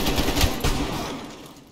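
Rapid automatic gunfire in the multiplayer shooter Call of Duty Cold War during a team deathmatch: a short, dense, loud rattle of shots that fades out over under two seconds.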